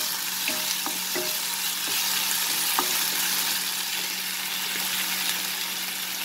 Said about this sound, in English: So now I will add the ginger garlic paste and we'll saute this till the raw smell of the ginger garlic disappears.